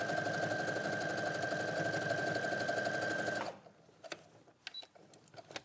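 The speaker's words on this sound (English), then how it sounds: "So let's sew this next one down." A sewing machine stitches down a quilt strip in a steady, loud whirring run for about three and a half seconds, then stops, leaving a few faint clicks and handling noises.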